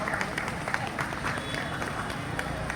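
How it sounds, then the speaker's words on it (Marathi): A crowd at a Shiv Jayanti celebration in Andheri, Mumbai, claps for a prize winner, with steady, dense applause and crowd noise that continue throughout the clip. "तर जोरात टाळ्या वाजवूया आपण ताईंसाठी."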